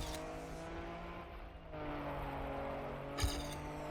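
A racing car engine in a video game drones steadily through gear changes, with a brief sharp tire squeal or impact near the end and no speech.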